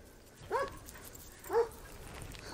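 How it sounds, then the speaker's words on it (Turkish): A dog at a farm field beside a forest gives three short whiny yelps spaced about a second apart, fairly close, over quiet outdoor background. "bakın geldi köpek yanımıza"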